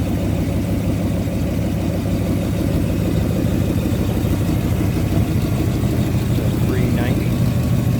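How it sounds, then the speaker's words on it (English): A 1961 Ford Galaxie's 390 V8 idles steadily through side pipes, a smooth, even low rumble heard close up with a voice talking over it. "Smooth running. Sounds great through those side pipes, obviously."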